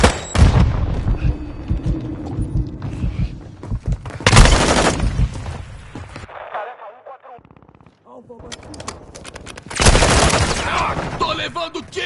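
Video game gunfire from Call of Duty MW2 multiplayer, with loud bursts of shooting and explosive blasts in two main volleys and sporadic shots between them, heard under a player talking over team comms.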